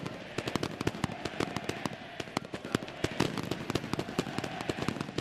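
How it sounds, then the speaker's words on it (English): Fireworks crackle and pop at a football stadium during a Central Córdoba versus Sarmiento match, a dense, rapid string of sharp bangs over steady crowd noise. "Oh, fireworks."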